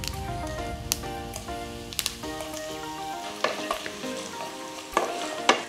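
Urad dal, chana dal, cumin and mustard seeds fry in not-yet-fully-hot oil with a continuous crackling sizzle, punctuated by clicks and spoon taps, alongside a low steady tonal hum.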